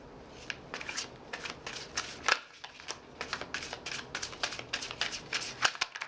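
Tarot cards are shuffled close by in quick bursts of crisp riffling, sharp clicks and soft slaps, irregular and fairly faint, with no voice.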